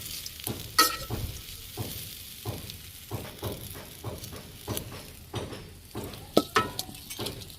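Bottle gourd frying in a pan with cumin powder is stirred in a steady rhythm of scraping, clinking strokes over a soft sizzle, close and moderately loud, with no voices.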